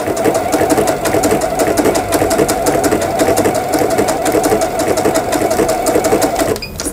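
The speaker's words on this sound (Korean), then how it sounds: "7번에는 이제 오버록 스티치라고 그래가지고 옷감의 가장자리 천이 풀리지 않도록" A Lion E5100 household sewing machine runs steadily while sewing an overlock stitch along a fabric edge, a close, loud, fast rhythmic mechanical whirr and clatter lasting until it stops just before the end.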